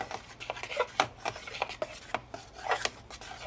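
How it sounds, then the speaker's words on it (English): A regular butter knife swirls through cake batter to marble it, giving a close series of soft scraping, rubbing strokes against the pan with an uneven rhythm and no voices. "And now I'm going to take my knife and just swirl it around everything"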